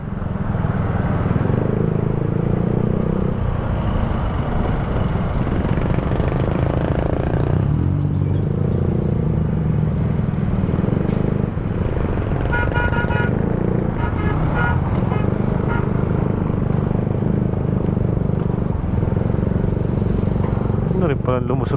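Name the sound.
road traffic at Balagtas Rotonda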